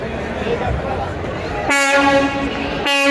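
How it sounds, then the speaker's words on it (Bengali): A passenger launch's loud ship horn blasts in a sustained harmonic tone at a riverside terminal, sounding close over a steady background rumble, cutting off briefly before blaring again. "চমৎকার বাজে চমৎকারভাবে হর্ন বাজে"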